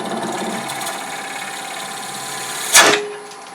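A wood lathe spins with a steady whirring hum as a square carbide bit nibbles at the turning workpiece, ending in a sharp brief crack near the end.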